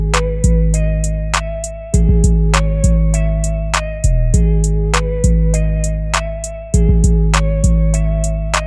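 Mark 1 Lounge electric piano preset with reverb, wobble and distortion plays a repeating chord pattern alone, loud and close, each chord struck and left to ring with a long decaying tail.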